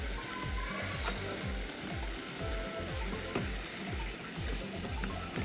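Churro dough of flour and boiled water being stirred in a pot, a steady repetitive scraping rhythm of regular strokes continuing throughout, fairly quiet and without talk.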